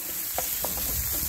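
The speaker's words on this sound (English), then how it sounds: "So what we're doing now is just quickly frying off" Ham and pepper salami sizzle steadily while frying in a pan, with a continuous close hiss and a few soft stirring scrapes over the top.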